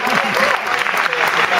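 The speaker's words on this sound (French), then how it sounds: "On peut vous applaudir, s'il vous plaît." Audience applause greeting a guest at an evening talk event, loud continuous clapping with a voice briefly audible underneath at the start.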